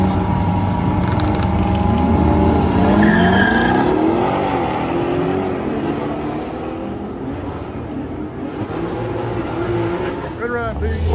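Big Audi drift car at a drift event, loud engine roar and tire squeal as it slides through the course, the engine note rising and falling, close by with a steady wash of crowd and track noise.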